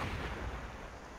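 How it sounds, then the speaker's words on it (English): A window breach charge detonates in Rainbow Six Siege. It is a short, dull, rumbling blast with heavy low-end weight, heard at a moderate distance and fading out within about a second. "They just detonated a window"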